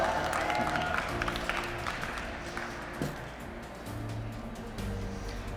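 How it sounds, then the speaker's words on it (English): An audience applauds at a barista championship round, broad steady clapping over a room hum that eases slightly partway and swells again near the end. "let's give a big round of applause for those beverages"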